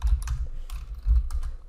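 Someone types a search term on a computer keyboard, producing quick irregular clusters of soft key clicks and thumps up close, with no voices.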